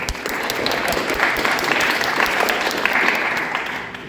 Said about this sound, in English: It's always good to get applause at the beginning